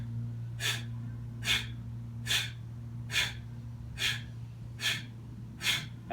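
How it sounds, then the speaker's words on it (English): Rhythmic, forceful breathing-exercise exhales, eight sharp breathy bursts evenly spaced about once a second, close and clear over a steady low hum, with no talking. "Still just focusing on the exhale."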